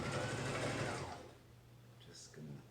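A sewing machine runs steadily for about a second while stitching a face mask, then stops, leaving quiet handling noises and a little faint talk.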